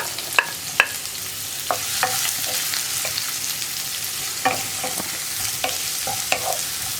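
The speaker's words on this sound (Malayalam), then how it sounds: "ഇതിലേക്ക് ഇനി നമ്മൾ കട്ട് ചെയ്ത് വെച്ചിരിക്കുന്ന സവോള ചേർക്കാം. അതുപോലെ തന്നെ പച്ചമുളകും." Chopped onions and green chillies for a brinjal curry sizzle steadily in a pan, with a broadband frying hiss broken by several sharp crackles and stirring scrapes, close and fairly loud, with no talking.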